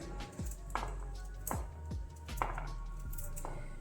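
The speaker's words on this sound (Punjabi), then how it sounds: "ਆਪਾਂ ਗਾਜਰਾਂ ਨੂੰ ਕੱਟ ਲਵਾਂਗੇ ਬਰੀਕ ਬਰੀਕ" Carrots are chopped finely with a knife on a board for juice, giving a series of crisp, close knife strikes roughly every half second to second, with no talking.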